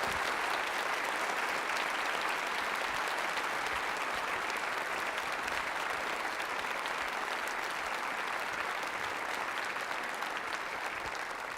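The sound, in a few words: round of applause for the teachers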